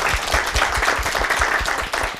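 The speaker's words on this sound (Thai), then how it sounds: "ปรบมือให้บริษัท" Audience applause at a Thai business success talk event, a steady wash of many hands clapping close and fairly loud for a couple of seconds with faint background murmur.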